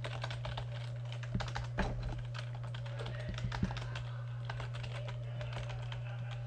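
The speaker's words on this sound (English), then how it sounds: "Sorry about that, typing issue." Computer keyboard typing, a run of quick irregular clicks and taps close by over a steady low electrical hum, with no voices.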